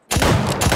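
Burst of Fortnite gunfire in a Rome-themed creative gun game, loud and close with rapid overlapping shots and booming tails, starting after a brief silence.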